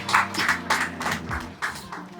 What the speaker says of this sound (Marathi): टाळ्या झाल्याच पाहिजेत या नवीन गझलकारासाठी